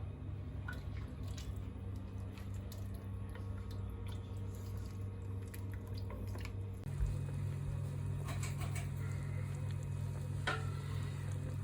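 Soup with a peanut base simmers in a pot over lowered heat, giving a soft continuous bubbling and faint dripping hiss, quiet and close, with a low steady hum underneath and no talk.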